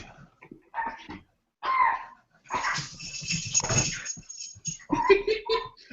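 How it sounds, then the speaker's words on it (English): A dog whimpers, yips and barks in short uneven bursts, fairly close and moderately loud, with pauses between the sounds and no talking over them. "I believe is laughing at all the dog sounds"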